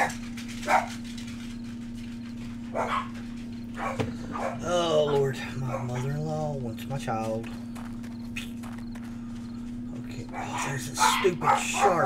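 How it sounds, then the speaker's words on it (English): Dogs bark and yip in short bursts off and on, with a whimper or two, under a person talking over a steady electrical hum. "Sorry about my dogs, guys."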